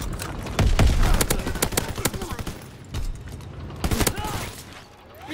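Gunfire in the World War II shooter Call of Duty WWII during a winter siege battle: dense bursts of rifle and machine-gun shots, sharp and close, in irregular clusters over a rumbling battle backdrop.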